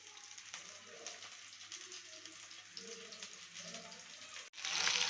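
Sankara fish frying on a dosa tawa, a steady close sizzle with crackling spatter throughout and a louder hiss flaring up near the end.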